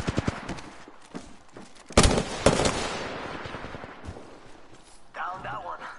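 Bursts of automatic gunfire from an Apex Legends match, loud sharp volleys up close at the start, then a long echoing fusillade with scattered shots trailing off.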